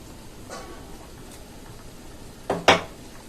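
A lid is set onto a pot of chicken sukka being cooked, giving two quick metallic clanks close by after a faint earlier clink, over a quiet background with no talking.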